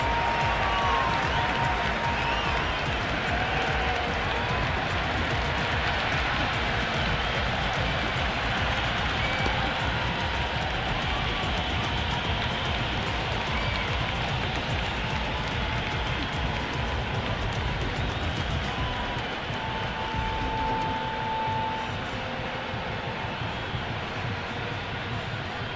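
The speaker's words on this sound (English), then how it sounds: "The crowd are really getting quite raucous." A raucous cricket stadium crowd at a T20 match between India and New Zealand makes a continuous dense roar of cheering and clapping that stays loud and steady throughout.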